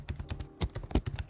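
Rapid typing on a computer keyboard while entering a terminal command, a quiet run of close, irregular key clicks with a couple of heavier taps.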